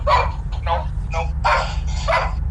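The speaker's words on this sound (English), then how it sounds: "the dog barking" A dog in a home barks and yips in about five sharp, close bursts over a couple of seconds, with a low hum underneath.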